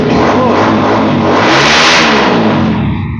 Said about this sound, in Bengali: এই যে স্টার্ট হয়ে গেছে চাবি ছাড়া স্টার্ট স্টার্ট হয়ে গেছে